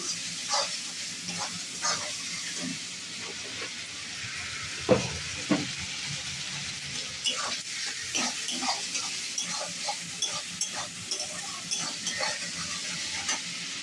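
Water lily stalks frying in a pan with a steady sizzle and hiss, stirred now and then with scraping clicks from the utensil, close and moderately quiet, no voices.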